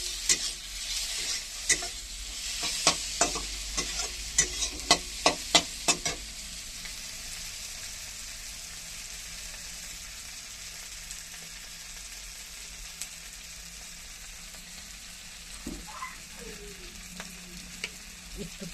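Fish curry masala cooking in oil with onion, tomato and green chilli, a busy sizzle under a run of sharp stirring clacks early on that give way to a steadier, quieter fry with occasional scrapes near the end.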